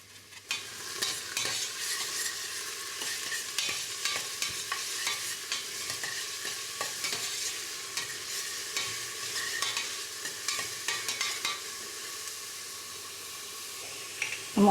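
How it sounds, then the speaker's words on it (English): Seasoning peppers and onions frying in a pan, a bright, close crackling sizzle with repeated utensil stirring scrapes throughout, fairly loud and unaccompanied by speech. "We're going to fry some seasoning peppers. We're going to fry up some onions."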